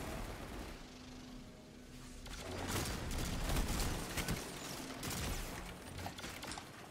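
Rapid bursts of gunfire in Destiny 2 during a Solar Gunslinger fight, a dense clattering volley that swells in the middle and then tapers off, with no talking.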